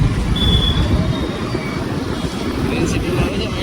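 A metro train runs with a steady low rumble and roar throughout, heard from inside or close by, with a voice talking over it.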